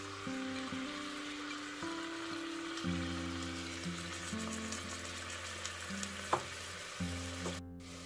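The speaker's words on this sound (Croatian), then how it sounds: "Kada smo propržili luk, šargarepu i celer" Onion, carrot and celery frying in olive oil as the base of a bolognese sauce: a soft, steady sizzle with occasional clicks and a brief clatter, under a sustained low humming tone, with no talking.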